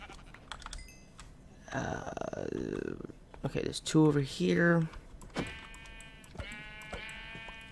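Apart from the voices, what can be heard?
sheep bleating in Minecraft (IC2 modpack) video game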